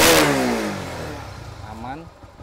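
A used motorcycle engine at a dealer revs up sharply with a loud, close burst, then the pitch falls away as it settles back toward idle.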